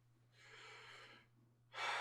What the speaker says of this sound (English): Now here's chest breathing.